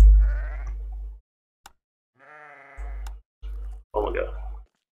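Sheep in the video game Drova Forsaken Kin bleating in several loud, close calls with short pauses between them.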